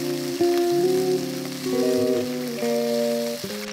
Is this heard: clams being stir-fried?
yes